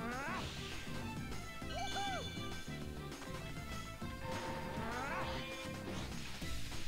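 Blue robot enemies get smashed in Sonic Unleashed, with repeated crashing impacts and metallic clangs over busy game music and effects, and bright swooping jingles at intervals; a voice talks faintly beneath.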